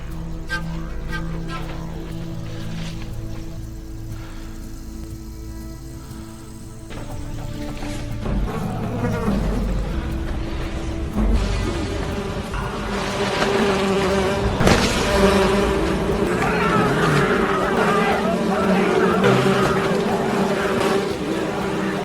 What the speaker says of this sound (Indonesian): mengambil sarang tawon Vespa untuk sejenak menghentikan Zero CS